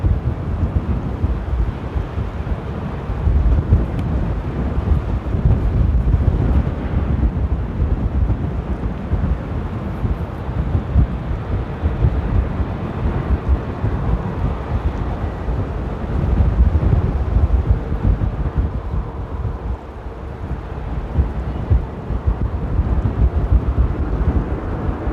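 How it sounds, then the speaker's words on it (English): Strong wind buffets the microphone at Amsterdam Airport, producing loud, continuous low rumbling and gusting that swells and eases over the whole stretch. "the wind is so strong right now"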